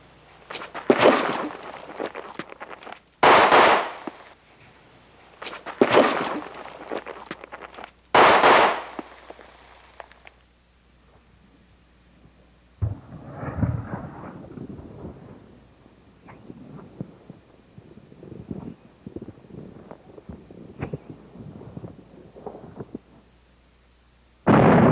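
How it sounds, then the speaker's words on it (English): Four sharp, loud pistol shots fired at contact distance during live-fire practice, evenly spaced a couple of seconds apart, followed by quieter rustling and handling noise. "Now let's take a look at this live fire."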